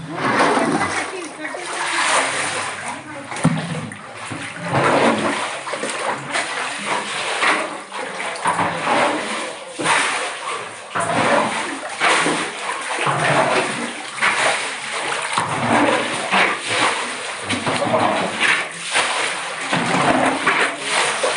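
Rainwater and drain water pouring into houses in Hungund during heavy rain, a continuous rushing, splashing flow heard close up, with people talking over it throughout.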